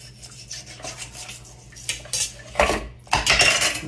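A knife saws and scrapes through barbecued spare ribs resting on a metal pan, giving gritty rasping strokes and clinks of blade against pan that grow louder and choppier toward the end, with no one talking.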